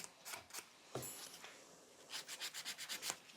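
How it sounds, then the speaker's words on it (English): An electric nail file buffs around the cuticle of a damaged nail, producing faint, close rubbing and grinding bursts, a few scattered strokes early, then a quick rhythmic run of short passes near the end, with no speech. "I have to e-file this place. Blend around the cuticle area."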